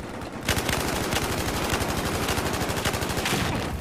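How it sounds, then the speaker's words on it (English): Rapid automatic gunfire in the Battlefield 4 video game, a loud, continuous burst of closely spaced shots lasting several seconds after a brief quiet start. "Oh, someone's shooting at me."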